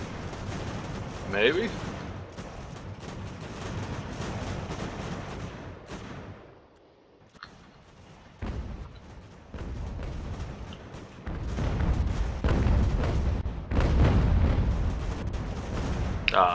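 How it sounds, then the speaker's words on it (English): A 12-pounder cannon fires during a battle in Ultimate General: American Revolution, booming heavily amid continuous rumbling battlefield noise, with someone talking over parts of it. "This is one of our 12-pounders. Let's see what he does against them."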